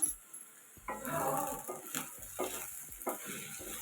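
A spoon scrapes and clinks through okra palya in a pan as spice powder is mixed in, giving irregular close scraping strokes over a faint sizzle.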